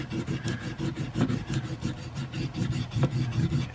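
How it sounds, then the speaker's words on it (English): A hammer edge rubbed back and forth along a wet leather sheath edge, burnishing it with a steady, rapid rasping friction that repeats in short strokes throughout, close and fairly quiet with no talking. "I was using the edge of this hammer"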